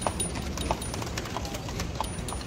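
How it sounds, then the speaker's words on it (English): Horse hooves clip-clop on a downtown Memphis street as a horse and buggy passes, a steady rhythm of sharp knocks at moderate distance over constant traffic and city noise. "Here come the horse down there too, the horse and buggy."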